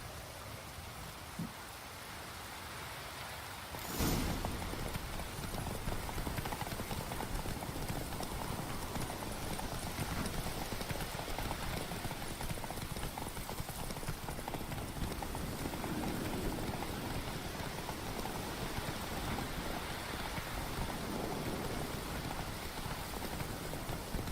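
A horse gallops in The Witcher 3: Wild Hunt, with rapid, continuous hoofbeats that start abruptly after a few quiet seconds and then drum steadily, close and loud, over a rain-like hiss, no speech.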